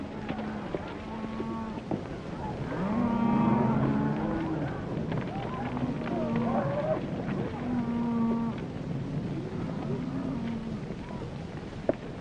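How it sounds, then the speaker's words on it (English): Cattle moo repeatedly at a ranch, several drawn-out lowing calls from a herd at middle distance, spaced every couple of seconds over a soft background of movement. "get those cattle watered down right away."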